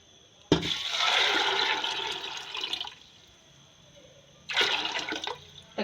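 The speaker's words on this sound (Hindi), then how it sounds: "और अब मैं इसमें डालूंगी पानी।" Water poured from a vessel into a cooking pot of black chickpeas in a home kitchen, a steady splashing rush for about two seconds, then a second shorter pour after a pause, fairly close and with no talking.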